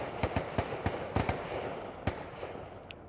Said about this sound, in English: they're shooting in a nearby bay